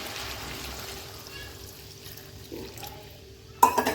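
Water is poured into a pan of sautéed vegetables cooking for a home-style curry, a sudden splashing burst near the end after quiet kitchen background.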